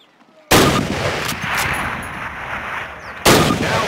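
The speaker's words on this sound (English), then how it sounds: "Grab up a Springfield rifle from the table, switching it for your carbine. Turn to the left, move to the fence, and fire 2 rounds at your target." Springfield rifle in the video game Call of Duty, fired at a target during boot camp: two loud, sharp shots spaced about three seconds apart, each with a booming echoing tail, with no talk.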